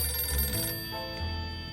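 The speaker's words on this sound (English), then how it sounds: "The phone's ringing again." In the video game 60 Seconds! Reatomized, a telephone rings with a steady electronic bell tone, moderately loud and alone, fading between rings.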